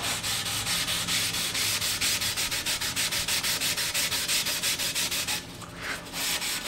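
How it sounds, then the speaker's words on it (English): Steady, rhythmic abrasive scrubbing of a maroon Scotch-Brite pad on a sanding pad working a surface, close and continuous, with a brief lighter pause near the end. "maroon Scotch-Brite pad on a sanding pad"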